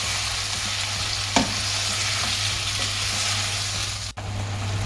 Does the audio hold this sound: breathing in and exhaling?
no